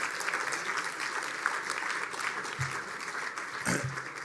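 Sustained clapping from a gala dinner audience, dense and even throughout, with a couple of low bumps near the end.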